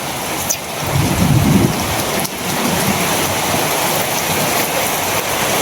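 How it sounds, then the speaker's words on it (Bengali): Heavy rain pours down steadily and loudly, a dense continuous roar with a deeper swell partway through and no voices. "বৃষ্টি নামছে"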